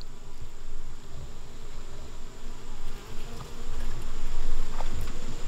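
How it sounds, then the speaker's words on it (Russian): Dense, continuous buzzing of many honey bees swarming close by around a hive frame with a queen excluder, a steady drone with slight rises and falls in loudness. "Пчелы свободно туда проходят и оттуда выходят."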